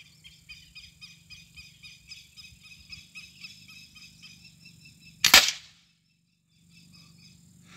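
A single sharp, close crack from an air rifle shooting a slug pellet cuts through steady outdoor chirping of insects or birds, followed by a brief hush.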